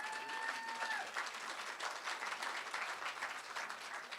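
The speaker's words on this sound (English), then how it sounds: "Please give them a round of applause." An audience applauds a taiko drumming band at a 2022 State of the City event, a dense, steady wash of many hands clapping that carries on through the whole stretch, with no talking.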